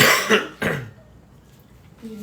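Two short, harsh coughs close to the mic in the first second, followed by quiet room tone and a faint sound near the end.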